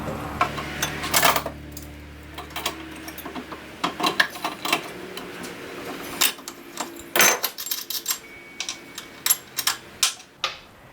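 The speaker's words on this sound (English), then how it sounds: "We remove the nut and the collar holding the wheel onto the arbor." Nut and collar being removed from the arbor of a DeWalt DW756 bench grinder: close metallic clinks, taps and jingles of small steel parts, scattered irregularly with quiet gaps between.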